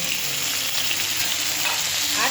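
Chopped tomato goes into a pan of frying potatoes and drumsticks, setting off a loud, unbroken hiss of sizzling oil close up, with a faint stirring scrape near the end.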